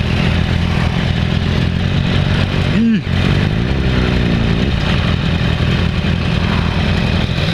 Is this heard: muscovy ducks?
no